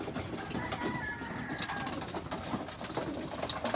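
Pigeons cooing at a loft of young racing birds, soft repeated throaty coos from several birds layered over a rustling background, close and steady throughout with no talking.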